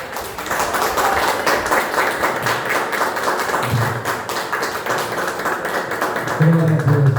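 Church congregation clapping together at the close of a service, a steady dense patter of many hands sustained throughout, with a few voices rising over it near the end.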